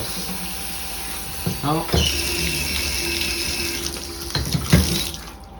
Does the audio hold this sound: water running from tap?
yes